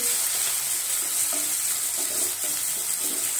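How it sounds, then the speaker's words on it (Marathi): Chopped onion sizzles in hot oil in a pan, a dense, steady frying hiss with faint stirring scrapes, heard close and without pause. "कांदा आपण परतून घेऊ"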